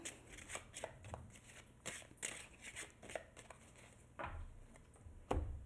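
Tarot cards are shuffled for a card reading, close and quiet, with a run of soft riffles and flicks coming in irregular bursts and brief thumps of the deck being handled.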